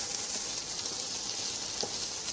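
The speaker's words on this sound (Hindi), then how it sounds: "अब इसको निकाल के इसी घी में मैंने ना सब्जियां फ्राई कर लेंगे" Cabbage, carrot and capsicum frying in hot ghee give a steady, dense sizzle that holds at an even level throughout, close and continuous with no talking.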